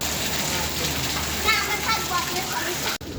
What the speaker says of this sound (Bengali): দেখুন যে বাচ্চারা বৃষ্টির জলে স্নান করতেছে